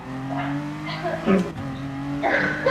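A race car in Gran Turismo 7 accelerates at full throttle, its engine holding a steady droning tone with short bursts of tire squeal. A voice talks over it throughout.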